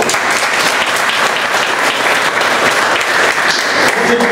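Sustained applause from the audience at a Bombay Toastmasters Club meeting, honoring Division Past President Bhushan; steady, dense clapping fills the whole stretch at close range with no speech over it.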